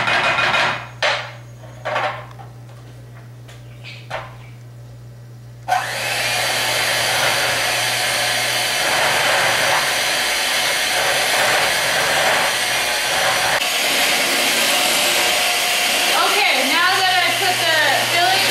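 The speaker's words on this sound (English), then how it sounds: "So I'm going to add both of these to the cream cheese and then mix with the beater." An electric hand beater whirs steadily through cream cheese, raspberry filling and powdered sugar for a chocolate raspberry cake, starting abruptly after a few light kitchen clinks and running loud and continuous to the end.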